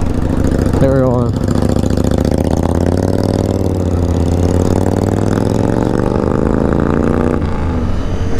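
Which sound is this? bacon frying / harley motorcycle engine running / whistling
harley motorcycle engine running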